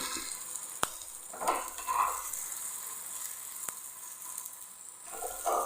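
Unniyappam fry in oil and get turned over, a soft continuous sizzle with a few sharp clicks and brief scraping bursts from the turning.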